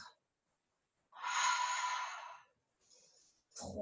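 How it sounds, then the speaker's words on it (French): Slow, deliberate breaths during a Pilates hold in a living room: a long, audible exhale of about a second and a half, then softer breath sounds and the start of another inhale, close and fairly quiet with no talking. "Et on va maintenir 5 respirations."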